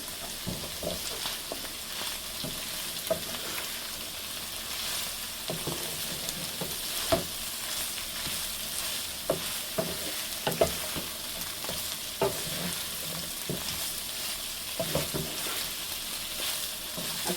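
Two colours of capsicum frying with rice in a pan, a continuous sizzle with repeated scraping stirs of a spatula at irregular intervals, close and clear.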